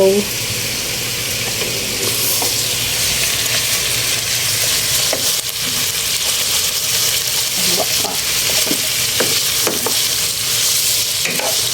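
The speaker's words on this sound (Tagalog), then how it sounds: "Hintay mo na mag-brown ang pork." Pork browning in a frying pan for ginisang puso ng saging, a steady broadband sizzle with occasional stirring scrapes and clinks throughout, close and fairly loud, with faint background voices.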